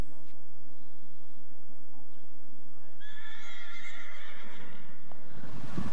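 Hanoverian horses at the Celle state stud in Germany. A loud, drawn-out whinny rises in the second half of the clip over outdoor background noise, with softer activity before it.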